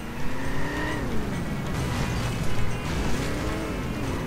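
Car engine in the Simpsons Hit and Run video game, a revving motor whose pitch rises and falls in sweeping arcs as it accelerates and shifts, steady and moderately loud with no talk.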